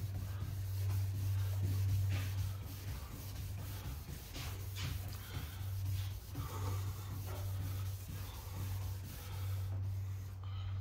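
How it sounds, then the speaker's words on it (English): Hand sanding of paint on a 1963 Cadillac body during restoration, a continuous rhythmic rubbing scrape, close and fairly steady over a low background hum. "I sand it as much as I can and I'll come back and dry it and deal with the areas that need more attention."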